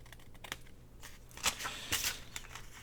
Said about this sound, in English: Trim that a little bit better right there.